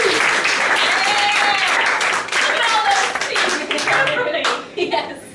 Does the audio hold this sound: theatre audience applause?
yes